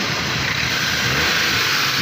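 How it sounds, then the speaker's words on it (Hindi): A Daihatsu Cuore car engine runs steadily at close range after its vacuum pipes have been refitted, a loud, even mechanical hum with no pauses or talk. "ये भी मुकम्मल करके गाड़ी स्टार्ट करते हैं।"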